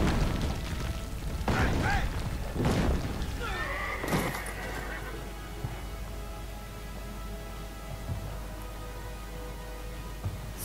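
A horse neighs during a siege in the video game Assassin's Creed Brotherhood, with several loud whinnies early on, then a dull battle rumble under a voice.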